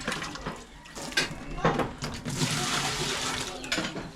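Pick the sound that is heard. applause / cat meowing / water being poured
water being poured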